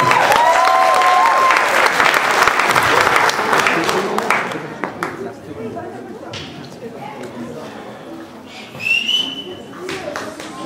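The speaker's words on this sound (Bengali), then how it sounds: "আমরা রাকির জন্য একটা জোরে করতালি।" An audience at an Easter program gives loud applause for Raki, dense clapping with a few whistles that fades after a few seconds, followed by scattered claps and background chatter.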